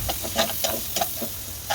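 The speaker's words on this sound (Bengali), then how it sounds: "পেঁয়াজটা ভালো করে লাল করে ভেজে নেবো" Sliced onions sizzle in a little hot oil in a pan, a steady crackling hiss broken by repeated scraping stirs, close and fairly loud with no voices.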